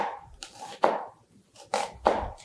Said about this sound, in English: I'm going to make sure that I have a firm grip on my onion, and I'm going to follow the lines that go across it.